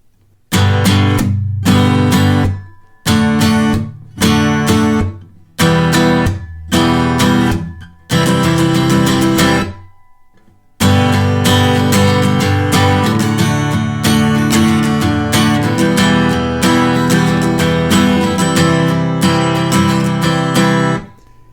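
An electric guitar hits a series of loud, ringing chords from the chorus of a song with short pauses between them, then settles into steady, sustained strumming.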